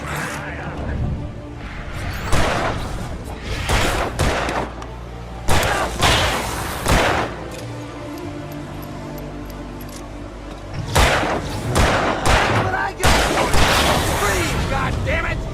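Gunfire in a tense firefight, several loud sharp bursts of shots and booms at irregular intervals, separated by quieter stretches of rumbling background.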